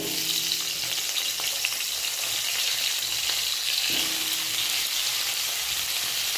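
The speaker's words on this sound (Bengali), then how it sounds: "আলুগুলি একটু ফ্রাই করে দেবো।" Potato pieces fry in hot oil in a kadai, giving a steady, loud, close sizzle that hisses evenly throughout with a couple of faint utensil taps.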